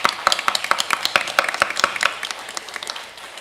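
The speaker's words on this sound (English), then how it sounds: "how about another round of applause for all of our great student athletes" A school board meeting audience applauds student athletes, a short burst of scattered hand claps that thins out and fades within a few seconds.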